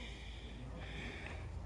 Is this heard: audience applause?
no